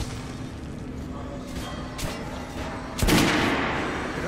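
Guns go off at a shooting range in Metro Last Light, a few scattered sharp shots and then a heavier, louder blast near the end over a steady background hum.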